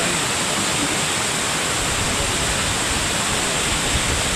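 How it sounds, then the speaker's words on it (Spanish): A roughly 90-metre waterfall in Bajos del Toro, Costa Rica, a dense, constant roar of falling water heard nearby, steady and loud throughout with no voices. "vea esa caída de agua"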